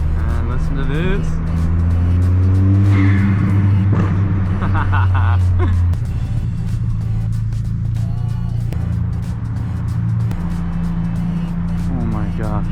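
A Ford Fiesta ST engine drones steadily from inside the car while driving, a loud constant hum with a brief rise around the middle, and a voice talks over it.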